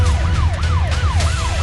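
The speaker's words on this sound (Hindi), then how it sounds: "पुलिस की गाड़ियों के सायरन की आवाज रात के सन्नाटे को चीर रही थी।" Police car sirens at night in north-east Delhi, a loud wailing siren sweeping up and down in steady repeating cycles over a low vehicle engine drone.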